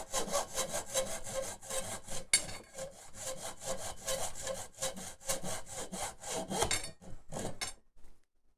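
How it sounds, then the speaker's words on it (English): A hand saw rasps back and forth in quick, even strokes through wood, loud and close, then stops near the end after a few final pulls. "I'm sawing this very weakly."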